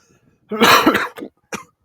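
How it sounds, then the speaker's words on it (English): A person coughs a few times up close, a harsh burst followed by a shorter cough and a quick final one. "Sorry for the coughing."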